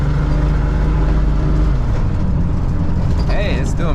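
Loud, steady engine drone inside a Toyota FJ62 Land Cruiser with a freshly fixed transmission as it downshifts while driving, the low rumble changing pitch midway, with a short whining sweep and a voice near the end.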